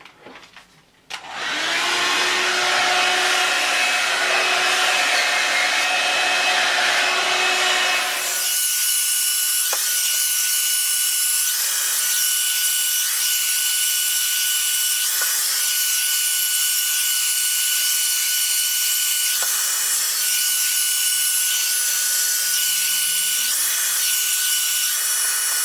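A hair dryer blows steadily while thick long-bob hair is dried, a loud continuous whoosh that starts abruptly after a short quieter stretch, with its pitch shifting slightly as the airflow moves through the hair.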